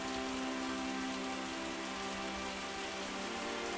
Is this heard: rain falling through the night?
yes